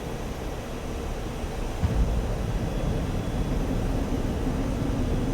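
Su-27 Flanker jet engine in the DCS flight simulator, a steady loud broadband roar with low rumble, continuous and unbroken throughout with no talking.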